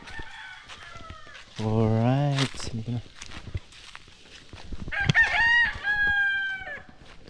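Chickens cluck and a rooster crows nearby on a rooftop, with small peeping chicks, footsteps and a person speaking briefly.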